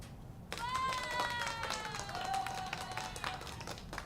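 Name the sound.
applause sound effect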